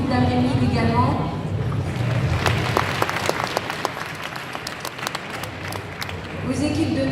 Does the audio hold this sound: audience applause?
yes